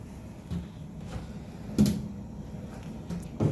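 A kitchen drawer in a Disney Riviera Resort tower studio hotel room opens and closes, giving a few soft, close clunks and thuds spaced apart over quiet room tone.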